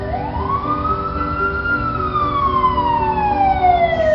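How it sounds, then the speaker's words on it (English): An ambulance siren wails loud and close, with one long tone that rises and then slowly falls over a steady engine rumble. "I called the ambulance."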